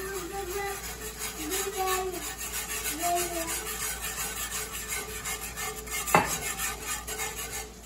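A whisk scraping and stirring gravy in a pan, giving a steady rhythmic metallic rub up close under kitchen background noise, with a brief sharp clink near the end.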